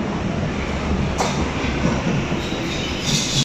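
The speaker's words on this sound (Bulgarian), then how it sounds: "Тук захождаме към метростанция Берлин-Лихтенберг, една от основните метростанции в града." A metro train running into Berlin-Lichtenberg station rumbles loudly and steadily, with wheel noise and brief higher squeals breaking through the continuous roar.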